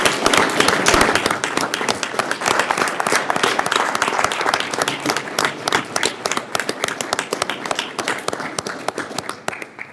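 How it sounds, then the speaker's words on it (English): Audience applause at a Quincy city council meeting, loud close-up clapping from a crowd, with individual claps standing out sharply and the applause thinning slightly toward the end. "I'd like to have a big round of applause for Steve."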